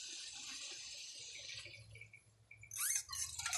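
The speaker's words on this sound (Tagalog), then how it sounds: "lalagyan na natin ng tubig" Water runs into a pan of cooking sardines, a steady pour and splash with a brighter, louder splashing burst near the end and no talking.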